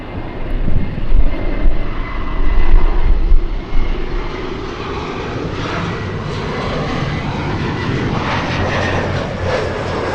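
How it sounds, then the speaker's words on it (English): A Korean Air Boeing 747 comes in to land at LAX, its engines a loud, close, broad roar that swells early and then settles into a sustained rumble. "landing lights on and the gear lowered on the big 7-4"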